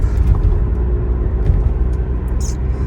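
A BMW 1 Series E87 drives along on an autumn day, giving a steady low engine and road rumble with faint ticks and rustles over it and no talking.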